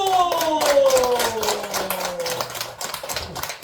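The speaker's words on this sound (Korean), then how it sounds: "박수!" An audience in a village hall applauds at a gospel magic show: steady clapping from a small crowd, with bright descending musical tones sliding down over it at the start before the applause carries on alone.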